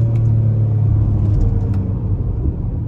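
A 2023 Acura MDX Tech pulls away under throttle with a loud, close, steady engine rumble and low drone that holds for the whole moment, with no voices.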